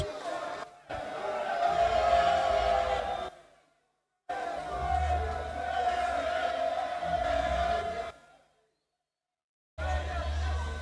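An excited crowd cheers at a semi-professional football match in Saint Lucia, loud surges of shouting and roaring in bursts separated by abrupt silent gaps, with talk mixed in.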